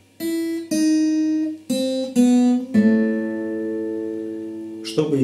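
Guitar picking the second part of the interlude phrase of a song, five plucked notes on the open first and fretted second string, the last ringing out long, close and unaccompanied.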